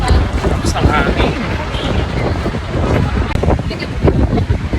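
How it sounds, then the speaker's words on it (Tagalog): Strong typhoon gusts of wind buffet the microphone on a Manila street in a continuous rough roar, with loud rumbling bursts rising and falling. "Tapos ang hangin."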